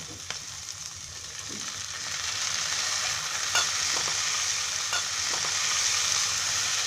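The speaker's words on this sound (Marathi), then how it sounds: "आता याच्यामध्ये आहे ना मी हे टोमॅटो टाकते" Tomatoes go into a pan of Konkani vegetable pulav on a low flame. A steady hiss of sizzling rises slightly, with occasional soft scrapes and clicks of a spoon.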